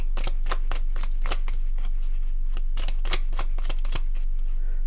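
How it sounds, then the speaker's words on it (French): A deck of cards is shuffled repeatedly at close range, giving rapid bursts of riffling and sharp flicking snaps in an uneven rhythm, heard alone without talk. "On va mélanger encore."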